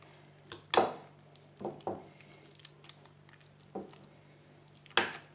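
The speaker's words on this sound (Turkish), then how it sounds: "Karabiberimizi çektik ve güzel bir karıştırıyoruz tekrar." A cold Cretan meze mixture stirred again after black pepper is added: a few wet squishing, scraping strokes against the bowl, spaced unevenly, close and moderately quiet with no talking.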